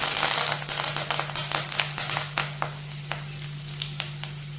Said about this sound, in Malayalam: ഇഞ്ചി വെളുത്തുള്ളി പേസ്റ്റ് ചേർത്ത് കൊടുക്കുക. നന്നായി ഇളക്കി കൊടുക്കുക. കറിവേപ്പില ചേർത്ത് കൊടുക്കുക.